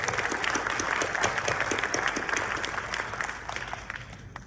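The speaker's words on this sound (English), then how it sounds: "Let's give them a clap." At a university engineering honors and awards ceremony, an audience applauds the graduating class in a full, even burst of clapping that holds steady and then begins to taper off toward the end.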